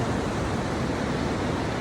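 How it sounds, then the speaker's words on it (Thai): A waterfall pours with a constant, dense hiss and roar heard up close, even in loudness from start to finish, with no talking. "น้ำตกตาดสวยงามพี่น้องเอ้ย สุดยอดเลยวิว"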